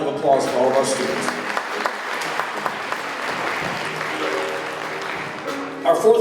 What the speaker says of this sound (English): a round of applause for all of our students.